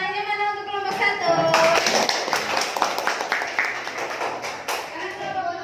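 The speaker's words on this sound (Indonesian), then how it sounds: "Tepuk tangannya mana untuk kelompok 1?" A classroom of students claps for a group, a short burst of hand claps and taps that swells and then fades, with children's voices calling out around it.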